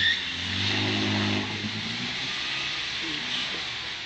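A Land Rover Defender fording water makes a fairly close, loud engine revving that rises and holds, then eases into a lower idle with some splashing and ambient rumble.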